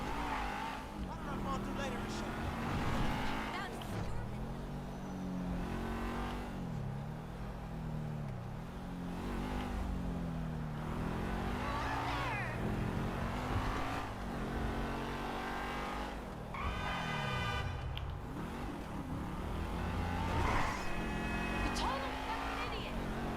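A car is driven in the video game GTA 5. The engine revs up and down again and again with rising and falling pitch, and there are bursts of tire squeal and skidding throughout.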